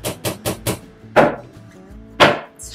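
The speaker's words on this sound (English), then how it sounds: "Okay, so you're going to hammer it in." Four quick sharp hammer taps in a row, then two single heavier blows spaced apart, tacking felt onto a hat block, close and loud with no talking.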